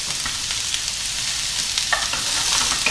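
Fennel sizzling and frying in a pan for Sicilian sardine pasta, a steady close hiss with occasional stirring clinks, no voices.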